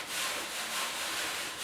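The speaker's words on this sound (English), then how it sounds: "I am using my little palm sander here, my oscillating sander." A small oscillating palm sander works the steel door of a 1956 Mercury car body, giving a brief, steady, close-up abrasive hiss with no talk.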